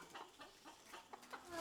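Chickens cluck repeatedly at a permaculture hotel, a run of short, moderately close clucks in an uneven rhythm with no talking.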